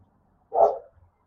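A dog named Max gives a single sharp bark, close and loud, with quiet surroundings before and after.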